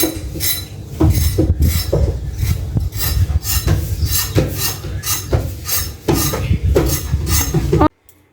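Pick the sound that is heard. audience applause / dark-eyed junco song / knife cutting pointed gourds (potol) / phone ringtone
knife cutting pointed gourds (potol)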